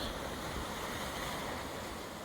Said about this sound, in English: Should have some good wave action hitting some shores and rocks